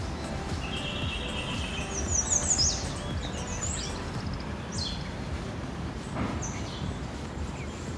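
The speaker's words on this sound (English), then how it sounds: "I just love the sound of birds, of nature early morning. Listen to this." Several birds chirp and whistle in the early morning in a foggy park, over a steady outdoor hiss, their calls brief and scattered, some nearer than others.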